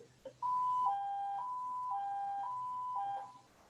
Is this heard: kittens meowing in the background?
no